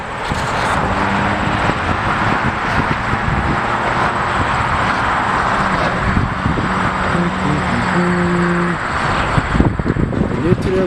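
A United airliner taxis at O'Hare airport toward a runway, its engine noise a steady broadband drone with tonal whines, heard over wind buffeting the microphone while a person talks throughout.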